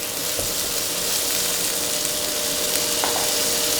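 Prawns fry in a hot pan with a constant, close, bright sizzle, steady and unbroken, with faint occasional stirring taps.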